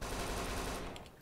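A short, rapid burst of automatic gunfire in Kane and Lynch 2 rattles loudly and close. It cuts off after about a second, leaving a few fading echoes.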